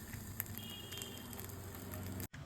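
Marinated fish for a hotel-style masala fry sizzles on a tawa in coconut oil, a soft, steady frying hiss with faint crackles that briefly drops out near the end.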